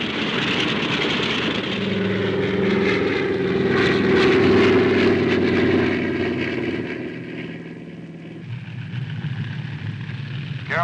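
Propeller airplane engine droning loudly as it readies for takeoff in a 1950s TV drama, a steady roar that swells then eases slightly, with no talk over it.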